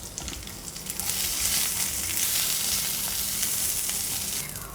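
Five or six dried red chillies and a handful of shallots fry loudly in a hot pan for horse gram chutney, a dense, continuous crackling sizzle swelling after a brief quieter start.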